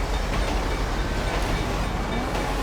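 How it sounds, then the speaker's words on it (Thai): Steady loud rumble and roar of a passing train in the video game Grand Theft Auto, dense and continuous throughout the short stretch, with no distinct clacks or voices. "เออโดนรถไฟชน"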